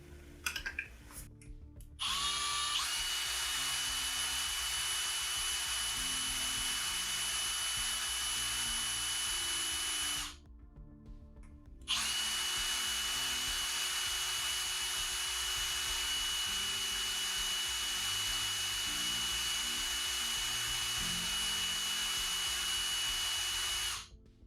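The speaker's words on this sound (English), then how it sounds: "I'm going to try and drill this this screw out" Small power drill boring out a stripped screw on a Nintendo Switch Lite console, a steady high whine running nearly continuously, close up, with one brief pause partway through.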